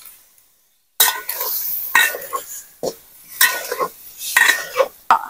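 Meat frying in a pan with a little spice for colour, stirred in bursts: sharp scrapes and clinks of a utensil against the pan over a hissing sizzle, with a short silent gap at the start.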